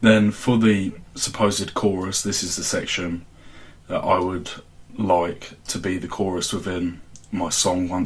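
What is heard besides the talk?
None of the usual background noises is heard.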